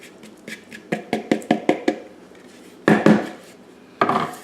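Empanada dough being worked by hand on a lightly floured kitchen surface, heard as a run of about eight sharp slaps or knocks, then two heavier, longer thumps, close and alone with no talk.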